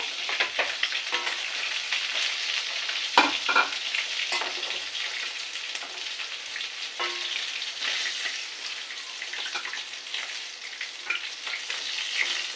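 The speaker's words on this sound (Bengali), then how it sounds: "একটু মচমচে করে ভাজি করলাম আজকে।" Fish fries crisp in a kadai: a continuous close sizzle with crackling spatter and occasional stirring scrapes, no voices over it.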